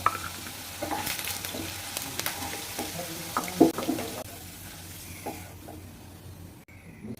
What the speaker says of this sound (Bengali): আলুটা আমার মানে মোটামুটি ভেজে নেওয়া হয়ে গেছে